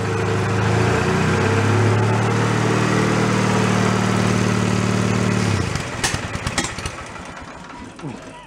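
A free, damaged Snapper mower's cold engine runs loud and close with a steady droning hum for several seconds, then cuts out into uneven sputtering pops and rattles.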